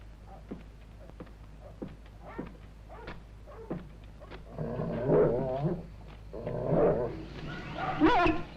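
A dog outdoors barks in a series of sharp, separate yelps, then breaks into louder whimpering and whining cries toward the end, fairly close and heard without speech.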